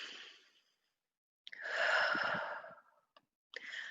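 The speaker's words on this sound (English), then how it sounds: "I'm breathing." Slow, audible breaths close to the microphone: a long exhale sigh, a pause of silence, then a deep drawn breath and the start of another.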